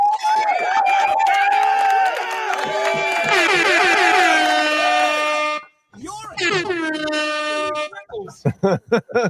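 Studio crowd on a live talk show cheering and whooping as an air horn sounds, with loud sustained horn tones and gliding calls, then a short break and a string of choppy bursts at the end.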